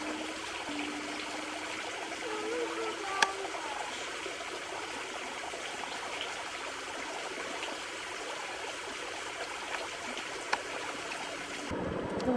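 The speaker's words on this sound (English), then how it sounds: "water seeps out of the side of the cliff all year round." Spring water seeping and trickling out of an exposed impermeable clay layer along a cliff face, a steady, soft, continuous stream-like trickle with no break across the whole stretch, heard alone at moderate distance.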